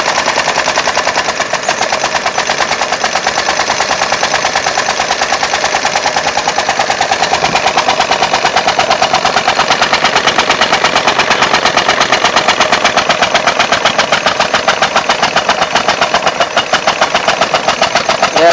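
An air engine driving a water pump chugs at a rapid, steady rhythm. The fast, loud, machine-gun-like pulses are close and run for the whole stretch with no talk.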